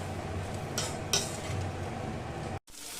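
Chilli fish with capsicum being stirred in a pan, with a steady, close clatter of utensil against metal and a low background sizzle, two sharper clinks partway through before a brief cut to silence.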